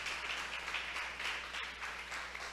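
A church congregation applauds during a Spanish-language sermon, a soft, distant, continuous patter of many hands clapping together, steady in volume with no voices rising over it.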